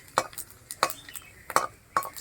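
Cumin seeds tempering in hot oil for bhog khichuri, with a few sharp clinks and scrapes of a spoon against a pan coming at irregular moments over a faint, low background.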